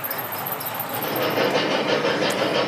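Thomas and Percy model trains run along an overhead track, giving a continuous rolling rumble with faint clicking, heard close and steady.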